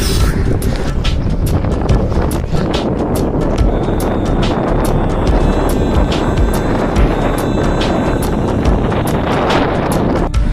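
Strong, steady south wind roars and buffets the microphone throughout while bicycle touring in Turkey, a loud continuous rushing with no pauses.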